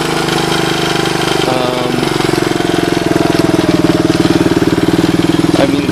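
A Suzuki DR200ES motorcycle engine idles close by, a steady rapid single-cylinder putter with a slight lift in pace partway through, loud and continuous with no talking.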